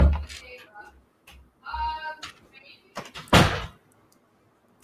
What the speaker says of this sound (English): I should probably close my door.